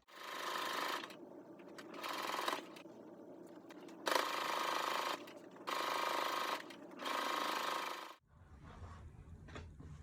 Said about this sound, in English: match up all the raw edges, then sew on one side.